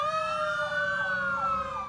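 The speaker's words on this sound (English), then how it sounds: "The sirens blaring here this afternoon were a show of solidarity from police and firefighters." Police car and fire engine sirens blaring together in a street show of support for staff during the COVID-19 outbreak, a loud, continuous wailing that sweeps up and down with layered tones and no talk.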